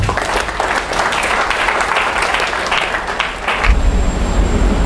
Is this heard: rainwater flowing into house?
no